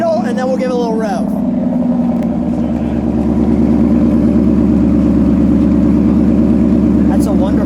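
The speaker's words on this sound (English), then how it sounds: "Let me get idle, and then we'll give it a little rev." Shelby Super Snake Mustang from 2017 idling steadily up close, a deep rumbling burble that holds even and loud throughout, with a person talking briefly over it near the start.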